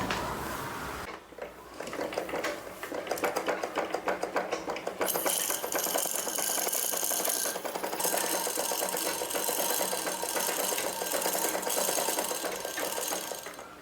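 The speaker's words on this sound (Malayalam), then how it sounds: "ഇവിടുന്ന് നൂലെടുത്ത് ബോബനിലേക്ക് ഇങ്ങനെ ചുറ്റി കൊടുത്തേ" A sewing machine runs continuously while winding thread onto a bobbin, a fast, even mechanical whirring and rattling that starts after a short pause and holds steady to the end.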